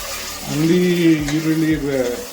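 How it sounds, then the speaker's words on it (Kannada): Chopped onions dropped into hot ginger-garlic paste frying in a pan, raising a loud, steady sizzle with stirring scrapes under it; a low tonal hum runs beneath the frying throughout. "ಶುಂಠಿ ಬೆಳ್ಳುಳ್ಳಿ ಪೇಸ್ಟ್ ಸ್ವಲ್ಪ ಫ್ರೈ ಆಗ್ತದಂಗೆ ಒಂದು 2 ಈರುಳ್ಳಿ ಕಟ್ ಮಾಡಿ ಇಟ್ಕೊಂಡಿದ್ದೀನಿ, ಅದನ್ನ ಹಾಕೊಂತ ಇದ್ದೀನಿ"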